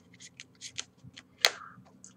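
A Hindu shuffle of a deck of playing cards: a quick run of soft, crisp card riffs close by, ending in one sharper snap of cards dropped back on top.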